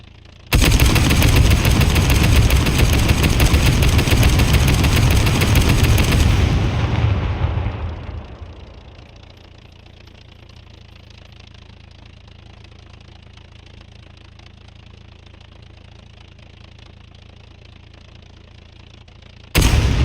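Heavy explosion and roaring gunfire in the video game SCUM, a dense loud blast of booms and shots that fades after several seconds into a low steady rumble before a sudden burst returns at the end.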